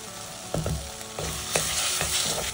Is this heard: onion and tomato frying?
yes